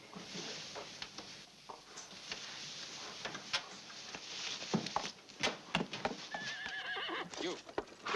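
A horse whinnies and its hooves clip-clop at a stable in a wartime camp setting, with the neighing rising in the latter half amid steady hoof clatter and rustling movement nearby.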